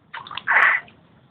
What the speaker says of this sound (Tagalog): Tapos pinapalitan na yung tubig niya.